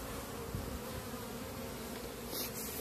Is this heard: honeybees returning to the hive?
yes